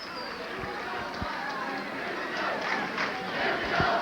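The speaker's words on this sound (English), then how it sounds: "Potsdam State, the bench and the crowd are happy with the call as the Bears get it" Crowd and bench at a 1986 NCAA Division III basketball championship game react to a referee's call with a sustained roar of cheering, dense and moderately loud, with a few sharp knocks and a commentator's voice running over it.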